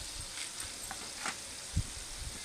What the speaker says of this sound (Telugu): ఇవి మాడకుండా మధ్య మధ్యలో ఇలా కలుపుతూ ఉండాలి